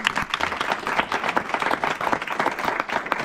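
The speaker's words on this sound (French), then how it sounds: "on peut l'applaudir." Audience applause at a morning academy gathering, dense steady clapping from a crowd lasting throughout, fairly loud and unbroken by speech.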